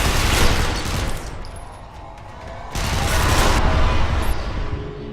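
Dense bursts of rapid gunfire from shooting androids in the video game Interstellar Marines, loud and close, with a lull in the middle before the firing resumes.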